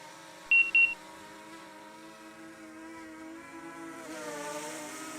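An Autel Evo Nano+ drone flying in wind makes a steady, whiny multi-tone buzz whose pitch wavers and rises near the end, with two short electronic beeps early on.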